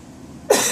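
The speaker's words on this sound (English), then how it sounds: "Got a little cough though." A single sharp cough bursts out at close range after a quiet stretch, loud and breathy, from a person with a slight lingering cough.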